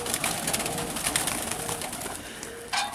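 Pigeons in a loft coo softly and repeatedly close by, with faint rustling and no voices.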